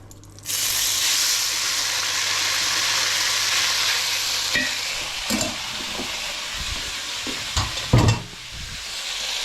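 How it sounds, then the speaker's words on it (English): Hungarian nokedli dumplings drop into hot oil and fry with a loud, steady sizzle, joined near the end by a few clattering knocks of a utensil against the pan. "I'm just going to fry off the nokedli."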